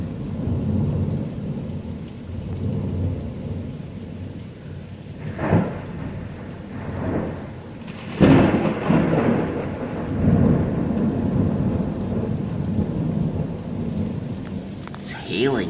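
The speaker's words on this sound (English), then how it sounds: "It's hailing too," Heavy rain pours steadily while thunder cracks and rolls through, with a loud clap midway and dense hail-like patter throughout.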